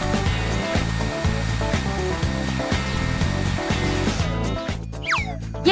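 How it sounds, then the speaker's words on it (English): A handheld hair dryer blows on a fashion doll's hair, a loud steady whirring motor and airflow with a pulsing rhythm that cuts off near the end, followed by a brief rustle. "Let's dry the hair properly with this."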